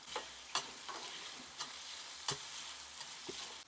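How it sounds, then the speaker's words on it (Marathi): Chopped onion fries in a pan at home as a masala is started, giving a faint, steady sizzle broken by a few light scrapes and taps of stirring. "तर इकडे कांदा पोळतोय, इकडे रस्सा होतोय"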